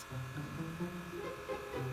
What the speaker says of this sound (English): Dad uses a massage gun on the dog's back